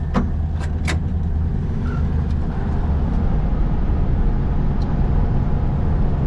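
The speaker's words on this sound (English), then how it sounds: "This car drives so well." A 1965 Volkswagen Beetle with an air-cooled engine drives along a road in Finland, its engine and tyre rumble a steady, continuous drone heard from inside the car.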